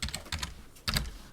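Close, crisp keystrokes on a computer keyboard come in two quick bursts of typing separated by a short pause, with no voices.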